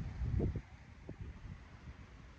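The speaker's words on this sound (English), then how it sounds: "Just trying to block the wind. It's a little windy out." Wind buffets a microphone outdoors, a low steady rumble with gusty swells, strongest in the first half second and continuing more softly throughout.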